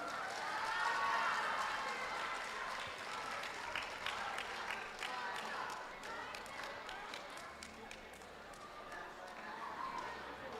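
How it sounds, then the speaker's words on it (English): An audience at a schools debating championship closing ceremony applauds a debate team, steady distant clapping spread through a large hall, faint and even, with a crowd murmur beneath. "Can we give a round of applause to them?"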